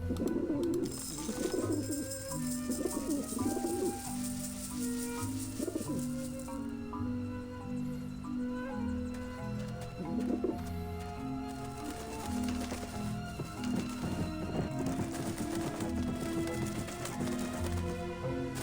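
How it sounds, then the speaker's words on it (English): Pigeons coo repeatedly on a roof dish vent in the video game Grim Fandango, soft rhythmic calls layered over a steady musical background. "The pigeons obviously like this dish vent."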